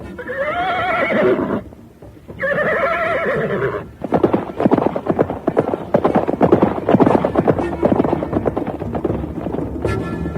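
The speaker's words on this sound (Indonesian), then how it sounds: "sebentar kemudian, mereka sudah berkuda menuju wisma kediaman Sang Ramapati" Horses whinny loudly twice in succession, then a run of quick, close hoofbeats clip-clops along as riders set off, with a brief rushing sound at the very end.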